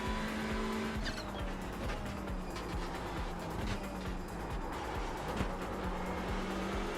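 A touring race car spins on a hot, low-grip track at Virginia International Raceway in iRacing, its engine droning steadily while the tyres squeal and scrub through the slide, loud and continuous.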